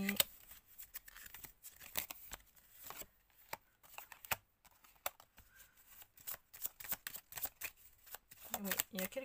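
Tarot cards are shuffled by hand, giving quick riffling flicks and soft slaps in uneven bursts, close and fairly quiet, while someone talks throughout.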